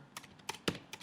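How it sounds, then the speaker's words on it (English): Brisk tapping of a computer keyboard, about half a dozen distinct keystrokes in uneven rhythm, close and quiet with nothing else heard. "Just type in your daily activities"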